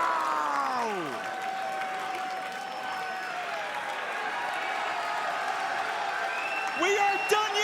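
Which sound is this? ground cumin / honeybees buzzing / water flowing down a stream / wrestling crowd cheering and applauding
wrestling crowd cheering and applauding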